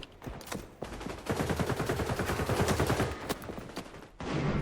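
Rapid bursts of gunfire rattle in the video game XDefiant, dense automatic shots in quick succession with a few separate single cracks, fairly distant.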